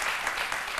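Brief burst of studio audience applause for an inventor on a French-language midday TV show, a short, steady patter of clapping.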